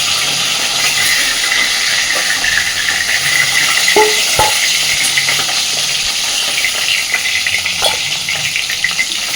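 Fish pieces fry in hot oil in a pan with a loud, continuous sizzling hiss, broken by a couple of soft knocks and scrapes, close up with no voices.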